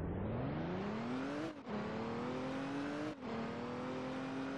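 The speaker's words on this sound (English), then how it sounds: "There's a bunch of cars" Car engines in the Roblox video game, a steady revving drone that climbs in pitch, drops twice with gear shifts, then climbs again, loud and close with no talk.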